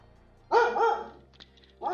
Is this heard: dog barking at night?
yes